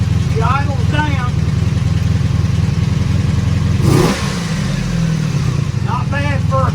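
An old four-cylinder engine brought back after 24 years of sitting runs loudly at close range, its steady rumble surging once before settling into idle, while someone talks over it in short bursts.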